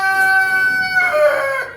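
A rooster crows once, loud and close, inside a barn that also houses laying hens, a drawn-out harmonic call that tapers off at the end.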